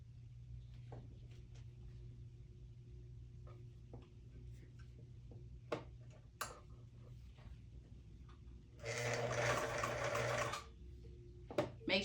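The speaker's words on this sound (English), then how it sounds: "let me just plug the sewing machine in." A sewing machine hums faintly at first under small taps and clicks, then runs in one loud, steady burst of stitching for about two seconds before stopping, with a few more clicks after.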